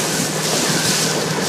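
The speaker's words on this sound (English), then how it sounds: "Boat's handling it well though. Fairly windy." An IS25 Independent Shipwrights trawler cruising through choppy water on a windy day, with a constant loud wash of wind buffeting and wave noise around the hull.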